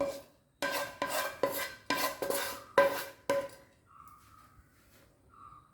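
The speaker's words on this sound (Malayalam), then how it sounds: "ഇനി ഇത് തണുക്കാൻ വേണ്ടി ഒരു പാത്രത്തിലോട്ട് മാറ്റി വയ്ക്കാം" Cooked tomato mixture for a green peas curry is scraped and spooned from a pot into another vessel, giving a run of loud clinks and scrapes of metal on metal for about three seconds, then a quiet pause with faint clatter.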